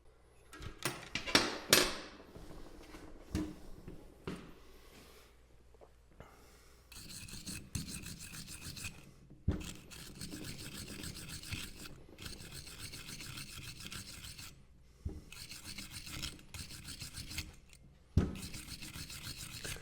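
Rust-covered metal parts, pulled from a vinegar soak, scrubbed by hand: a steady raspy rubbing and scraping close up that runs almost continuously, with a few sharper knocks and brief pauses between strokes.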